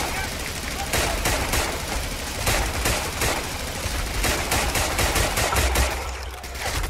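Machine gun fire in the World War II shooter game RAID rattles in rapid, repeated bursts throughout, loud and close, with scattered gunshots mixed in.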